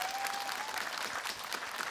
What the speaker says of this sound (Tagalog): Yung malakas na palakpakan, hindi pwede ang sigawan.